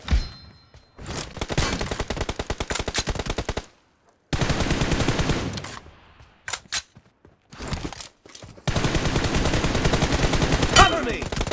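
PUBG Mobile gunfire comes in loud, rapid automatic bursts of several seconds each, separated by short silences and a few single shots.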